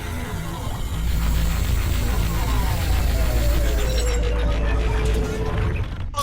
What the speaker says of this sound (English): Looks like that jolt brought your vacuum drive online.